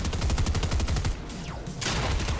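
Rapid shotgun blasts ring out in a video game, a dense run of loud repeated shots that briefly pauses before another burst starts.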